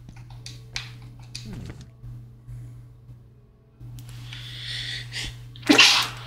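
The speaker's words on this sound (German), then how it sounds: "Gesundheit." A single loud sneeze bursts out near the end, close and sharp, after quiet indoor sounds and a low steady hum.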